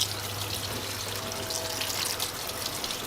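Cooked macaroni drained and rinsed under running water, a steady close rush and gush of water over the pasta, continuous for a few seconds with no talk.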